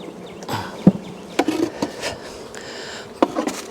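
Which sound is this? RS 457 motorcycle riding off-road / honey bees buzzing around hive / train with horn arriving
honey bees buzzing around hive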